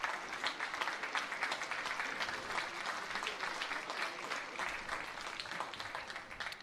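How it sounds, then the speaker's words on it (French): Supporters applauding in the stands of a stadium during a Belgium versus New Zealand women's football match at the Algarve Cup, dense continuous clapping from a large crowd, steady and even throughout with no talking. "Les applaudissements des supporters, du public ici dans ce stade de Parchal."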